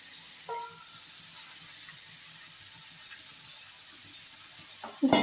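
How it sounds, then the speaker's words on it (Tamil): Capsicum, cabbage and onion sautéing with fried chicken in a pan give a steady, fairly loud sizzle throughout, with a brief clatter near the start and a louder scrape or stir at the end. "இப்போது கேப்சிகம், முட்டைக்கோசு, ஆனியன் இதெல்லாம் போட்டு வதக்குறோம்."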